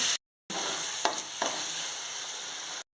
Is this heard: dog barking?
no